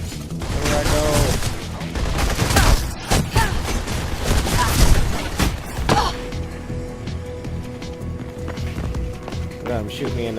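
Gunfire in the Mirror's Edge video game, scattered shots cracking through fast running footsteps and a busy game mix, with someone talking over much of it before things quiet down.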